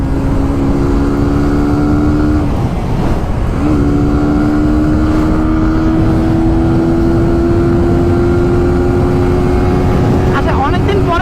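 A 150cc motorcycle engine runs steadily close by, its tone rising after a brief dip as it is ridden, with a continuous rumbling drone throughout.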